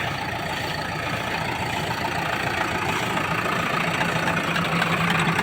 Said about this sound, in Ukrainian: Перевірю мішалочку, що там у нас з мішалкою, що все працює.